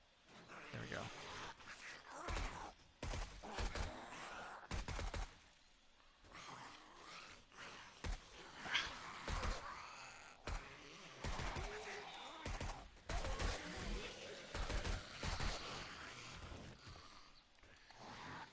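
Rapid bursts of gunfire crackle through a tense stretch of 7 Days to Die, many sharp shots fired in uneven clusters over roughly eighteen seconds, mixed with game noise and occasional movement sounds.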